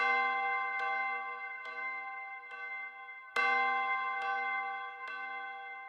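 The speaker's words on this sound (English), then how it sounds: "this bell that I have playing throughout the whole sample" An orchestral bell sample strikes repeatedly in a steady rhythm, each ringing hit layered with bright, sustained overtones that overlap and decay, with one noticeably louder stroke midway.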